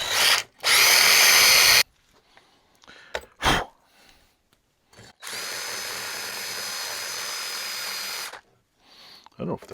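A power drill spins a wire wheel against a Wilton bullet vise to scrub off rust and crud, in two loud close bursts of several seconds each, separated by short clanks and pauses, with someone speaking briefly between runs.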